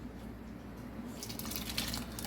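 Water poured into a pot of soup holding chicken stock, potatoes and vegetables, faint at first and then rising into a clear splashing stream in the second half, close by and with no talking.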